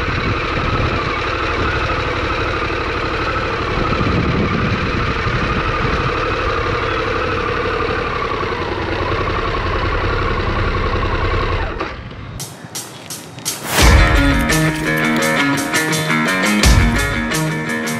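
A Harley-Davidson Pan America adventure touring motorcycle idles steadily and loudly for about twelve seconds, then the engine note cuts out and is followed by brief revving and mechanical sounds.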